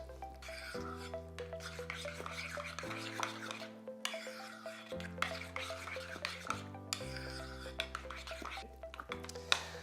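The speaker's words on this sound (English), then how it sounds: "And just give it a stir." A spoon stirring labneh mixed with lemon juice and grated rind in a bowl, making soft, steady scraping strokes against a background of continuous music.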